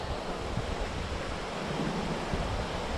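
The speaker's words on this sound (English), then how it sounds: "the wind picked up a little bit" Steady, loud wind rushes over the microphone on a woodland hiking trail near a park in Fargo, North Dakota, a continuous broadband roar with slight gusting and no voices.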